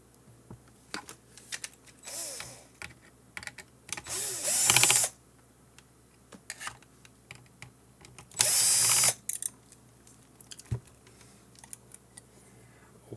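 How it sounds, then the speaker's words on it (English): Screws being removed with a power screwdriver from a ClearCom V-Series intercom panel, two loud whirring bursts of about a second each, separated by quieter clicks and handling taps. "I need to remove these two screws."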